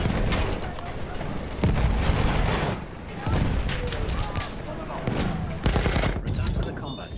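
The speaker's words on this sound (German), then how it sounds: "Ein Maschinengewehr!" An MG 08/18 machine gun in a World War I video game fires continuous rattling bursts mixed with booms of battle, loud and dense throughout, while voices call out over the gunfire.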